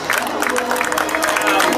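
Crowd at a live stunt show bursts into loud applause with dense clapping and some cheering, close and sustained throughout.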